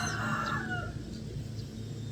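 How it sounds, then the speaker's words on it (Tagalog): A rooster crows once, fairly near and clear. The crow trails off into a quiet outdoor background with faint distant bird calls and no talking. "Sinasabayan ako ng manok guys."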